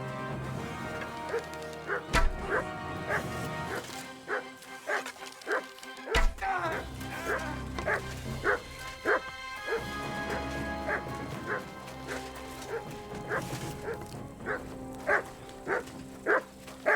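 Mutt, a dog in the video game Kingdom Come 2, yips and barks in quick repeated bursts, some whimpering, over a game soundscape with a brief crash near the start.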